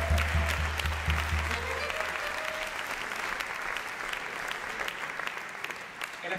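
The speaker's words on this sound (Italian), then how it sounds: "Un ringraziamento particolare, un applauso a Cristiano, grazie veramente." Audience applause at a big band concert, a steady, full wash of clapping from a crowd that holds evenly throughout.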